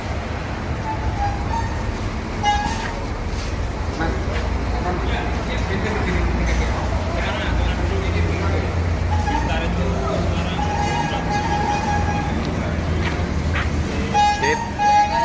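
Rosalia Indah buses departing a terminal, with a steady low engine rumble and traffic noise throughout, scattered horn-like tones and people talking over the busy yard.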